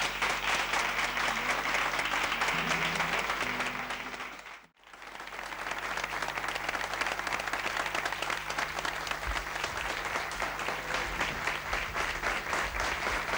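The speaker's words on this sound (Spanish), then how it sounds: "Esta es tu noche y te aplaudimos." A theatre audience at a 1981 evening honouring a singer gives loud, sustained applause. The clapping dips to near silence briefly midway, then swells back as a dense, continuous roar.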